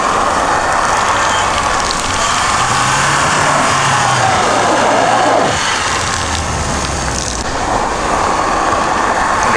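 Car engine revving hard in low gear on snow, running mud-terrain tires, a steady loud roar with slipping, churning texture throughout, swelling slightly midway and easing toward the end.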